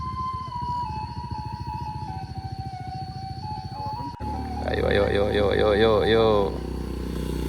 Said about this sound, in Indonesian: 20 motor dari Jambi.